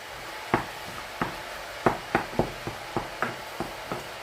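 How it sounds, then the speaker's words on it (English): Roughly chopped bacon is stirred into beef mince in a frying pan, giving a steady low sizzle broken by about a dozen sharp spoon scrapes and knocks at an uneven rhythm, close up with no talking. "I'm just going to put in the roughly chopped bacon. Give that a stir into the mince."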